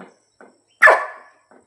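A single sharp dog bark rings out close by, loud and short with a quick fade, set between faint low sounds before and after.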